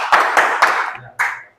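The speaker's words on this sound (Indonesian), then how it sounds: "Boleh tepuk tangannya?" Brief classroom applause during a physical education microteaching lesson, a few sharp bursts of clapping from a small group, fading out then one more short burst.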